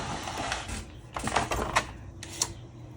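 A cut and emboss machine runs on double-sided shimmer paper, giving a light mechanical clatter of irregular clicks and taps at moderate distance, with no talk.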